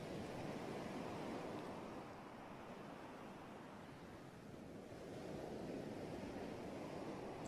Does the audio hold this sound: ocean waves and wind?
yes